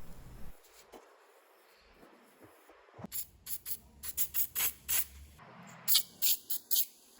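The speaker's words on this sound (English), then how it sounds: "These nuts are really seized and needed spraying." A series of short, sharp hissing sprays of penetrating spray onto seized nuts on a Honda CRM250AR motorcycle, repeated in bursts with brief pauses, close by in a quiet room.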